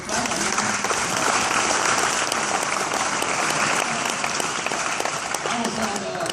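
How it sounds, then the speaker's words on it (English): A crowd at a high school football banquet keeps up continuous applause, a steady wash of clapping that stays even and fairly loud from start to finish. "You clap."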